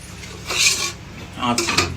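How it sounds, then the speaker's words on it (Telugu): A metal lid clanks onto a cooking pot in two quick bursts of clatter close by, with faint voices in the background. "మళ్ళీ మీద మూత పెట్టి"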